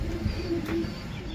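A female pigeon of an old breed coos softly in a few low, throaty pulses close by, over steady background noise.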